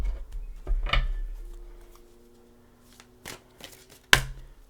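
A few crisp papery snaps and a soft riffle as a pre-shuffled tarot deck is cut and tapped together, with quiet handling noise between them.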